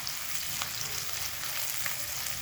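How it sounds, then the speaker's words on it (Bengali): Chopped onion and garlic fry in a pan on a high gas flame, giving a steady, close sizzle with faint stirring and no voices. "পেঁয়াজ আর রসুনটা গ্যাসটাকে হাই ফ্লেমে রেখে 3 থেকে 4 মিনিট ভেজে নেব।"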